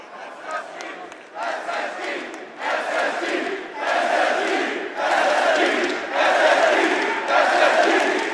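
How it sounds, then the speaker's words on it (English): A big esports arena crowd at the Rainbow Six (R6) major grand final in Atlanta chants in loud rhythmic surges, each wave swelling bigger than the last, alone with no talk over it. "hearing a team that's been eliminated chanted in the crowd"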